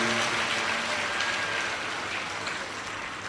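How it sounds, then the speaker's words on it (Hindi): A large audience at a religious katha gathering claps together for the host family, a dense steady wash of applause that slowly fades. "एक बार यजमान परिवार के लिए जोरदार ताली बजाकर स्वागत, वंदन, अभिनंदन"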